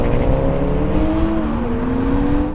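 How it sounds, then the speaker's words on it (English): Toyota Supras, a twin-turbo 80-series against two newer 90-series models, accelerate hard side by side in a rolling drag race from 50 mph, with a loud, close engine roar and rising whine that climbs steadily throughout. "Now we're going to have a rolling race from 50 miles an hour."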